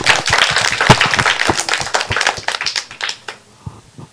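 A children's audience claps at a live-streamed church Sabbath children's program, a dense burst of many small hands applauding that thins out and fades toward the end.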